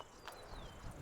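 Roach, the horse in The Witcher 3, running, with a quick burst of hoof clip-clops under faint game ambience, brief and fairly quiet.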